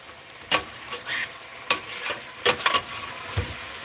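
Red chili being stirred into chicken pulao in a hot pan, with several distinct scraping stirs over a steady low sizzle of frying.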